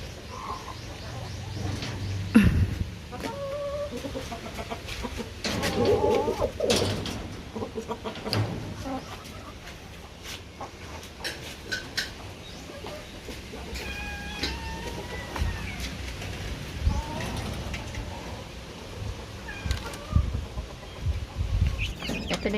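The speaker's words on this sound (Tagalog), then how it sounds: "Ito na yung mga sisiw dati, malalaki na sila" Chickens cluck and squawk in a crowded coop in rural Pampanga, scattered calls near and far over a soft background, with a few brief voices.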